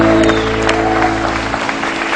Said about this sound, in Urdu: وسیم اکرم کے لیے اتنی کم تالیاں؟